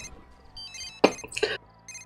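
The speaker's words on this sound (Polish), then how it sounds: "Jeszcze telefon dzwoni" A telephone rings in The Sims 3 with bright, tonal electronic chimes that come in short bursts, mixed with brief game sounds and voices.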